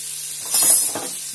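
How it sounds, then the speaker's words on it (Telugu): Butter melting on a hot tawa for Hyderabadi street-style tawa idli gives a brief, close sizzle and hiss that swells for a moment and then settles into a soft steady fizz. "వెన్న వేసుకొని అది కరగాలండి"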